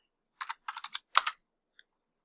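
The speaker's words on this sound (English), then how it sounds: "Let's type that in again." Keys on a computer keyboard tapped in a few quick bursts of clicks, close and clear, followed by a single faint click after a short pause.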